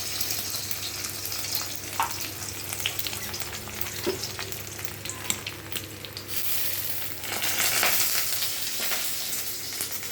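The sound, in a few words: egg frying in a wok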